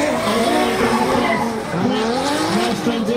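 Drift cars slide at an angle during D1GP competition, tires squealing loudly over roaring engines. The squeal is sustained and close, with rising and falling engine pitch over a few seconds.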